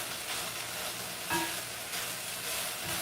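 Chicken fries in a pan with a steady, fairly quiet sizzle throughout, while being stirred, with one brief scrape or clink partway through.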